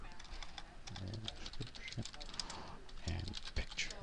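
Quiet, irregular clicking of a computer keyboard as a text description gets typed, the keystrokes close by with faint room noise underneath.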